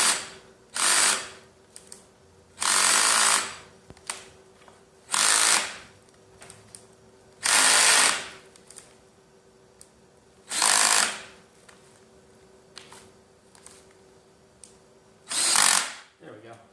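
Power drill driving screws while an Alera Elusion office chair is put together: seven short, loud whirring bursts of one to two seconds each, separated by quiet pauses, with brief speech in the gaps.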